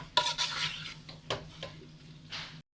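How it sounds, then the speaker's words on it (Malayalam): Egg being stirred into spaghetti noodles in a pan for an Indo-Chinese mixed non-veg dish, with close scraping and clinking strokes in short irregular bursts. "മുട്ട ചേർത്ത് കൊടുക്കുക. എല്ലാം ഒന്ന് യോജിപ്പിച്ചെടുക്കാം."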